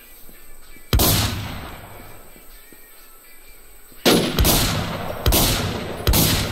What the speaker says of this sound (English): I shot him like 50 times with a shotgun